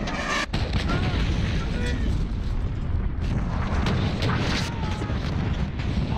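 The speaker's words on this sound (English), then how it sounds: "Enemy cruise missile incoming." A cruise missile strike in Modern Warfare lands with a heavy, rumbling blast followed by a sustained roar of booming explosions, with in-game voices faintly mixed into the din.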